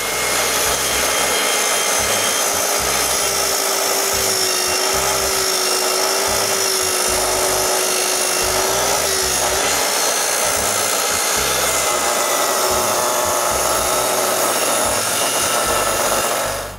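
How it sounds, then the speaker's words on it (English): A plunge-cutting track saw runs along a saw rail through wood for building a shop, with a continuous loud motor whine and cutting drone lasting over fifteen seconds, with no talking. "Then with the saw rail, I make a plunge cut."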